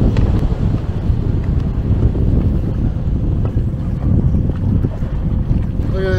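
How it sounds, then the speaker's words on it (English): A strong wind gusts across a lake around a fishing boat, a loud continuous roar buffeting the microphone, with no talking. "that wind came out of nowhere"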